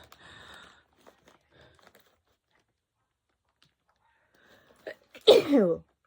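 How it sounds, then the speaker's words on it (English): A single loud, sharp sneeze bursts out near the end after near silence with a few faint clicks and a brief breathy sound before it. "I'm going to sneeze in a minute. I can feel it."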